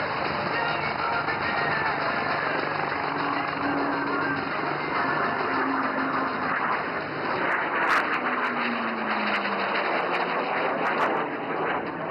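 An IJT jet trainer at the Aero India 2025 air show, Yelahanka Air Force Station, pulls up into a loop, its engine a steady, fairly distant roar with a whine that slides as power changes.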